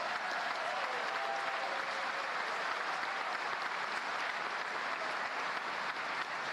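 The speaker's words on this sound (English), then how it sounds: "Give yourself a round of applause." Graduates at a commencement ceremony applaud in a large, steady round of clapping that holds evenly throughout, heard from a distance in a big hall.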